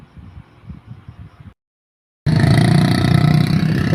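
Racing motorcycles at a race in Malaysia: a low, distant rumble gives way to a brief silence, then a loud, sustained engine drone with a buzzing tone takes over.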